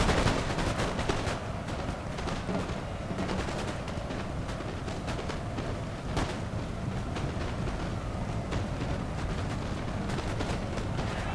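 Dense, continuous gunfire and battle noise from units fighting in a war video game in the Aosta Valley, a steady loud clatter of shots without letup throughout.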